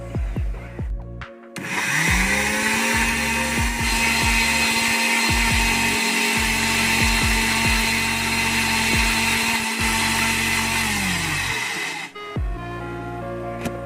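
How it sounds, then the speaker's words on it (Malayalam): A mixer grinder blending mango with milk, motor whining up to a high steady pitch and running loudly for about ten seconds before spinning down, with clicks at start and stop. "ഇനി ഇത് നമുക്ക് മിക്സിയിൽ ശരിക്കും അടിച്ചെടുക്കാം."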